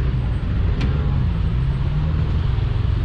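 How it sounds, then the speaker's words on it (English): Backed-up traffic on Canal Street in Lower Manhattan, New York, makes a steady low rumble of idling and creeping cars. It holds at an even level throughout, with a brief higher tone near the start. "the traffic is still backed up on Canal Street"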